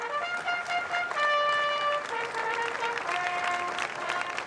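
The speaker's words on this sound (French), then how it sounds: "la foule qui l'acclame" A large outdoor crowd in Monaco applauds and cheers Prince Albert II and Princess Charlène, with sustained clapping and tonal cries or whistles rising above it, loud and continuous.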